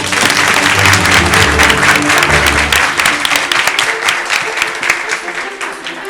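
A lecture-hall audience at a university debating event applauds a volunteer, loud sustained clapping filling the room before tapering off.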